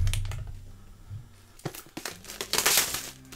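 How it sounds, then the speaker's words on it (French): Crinkling and tearing of iPad mini 2019 packaging during unboxing, with soft handling rustles building into louder bursts of plastic crumpling and paper ripping, close up and without talk. "On va déballer tout de suite."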